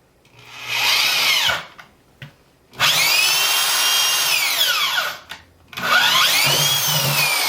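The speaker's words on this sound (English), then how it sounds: "Now what we got to do is drill a hole in the bucket." A power drill runs in three loud bursts, its whining pitch rising and falling as it bites into a plastic bucket, with short pauses between.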